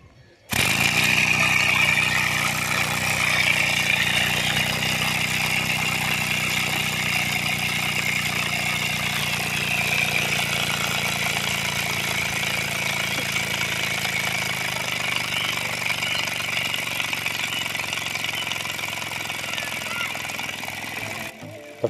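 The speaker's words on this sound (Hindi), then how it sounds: "तो फ्रेंड्स एक बार और मैं इस इंजन को आपको चला कर दिखाता हूँ।" A homemade steam engine driven by pressure from a bottle runs fast and steadily, giving a continuous loud hissing, rattling whir that holds for about twenty seconds before cutting out.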